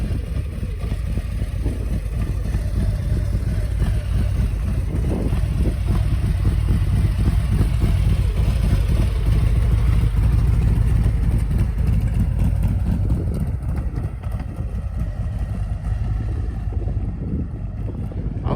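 A Harley-Davidson Road Glide Ultra being ridden past, its engine a continuous low rumble under heavy wind buffeting, steady and loud for the whole stretch without talk.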